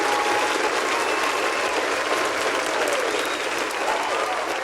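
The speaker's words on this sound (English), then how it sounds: "A round of applause." A crowd claps in sustained, dense applause, loud and even throughout, with faint voices mixed in.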